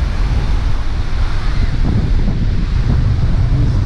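Ocean waves breaking at Praia do Francês surf beach in Brazil, heard as a continuous loud rushing surf roar mixed with wind buffeting the microphone, with no voices.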